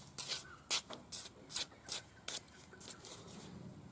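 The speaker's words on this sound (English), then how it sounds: "Sand it, and you're just sanding the end of the wire." Hand filing and sanding on the end of a metal ear wire for a pearl earring with a movable hoop, heard as short rasping strokes repeated about every half second, close and fairly quiet.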